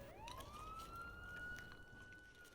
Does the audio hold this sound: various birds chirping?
no